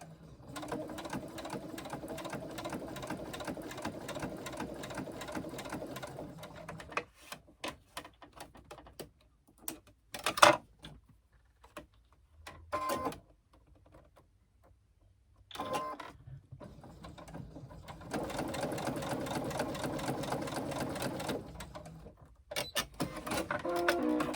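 Sewing machine top stitching along the folded edges of fabric pieces for a sling, running in a long steady burst, pausing for scattered handling clicks and short stitch bursts, then resuming in another long run, close and clear.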